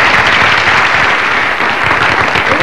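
A loud, sustained burst of audience applause, dense, even clapping from a large crowd at a comedy show, filling the whole moment without voices.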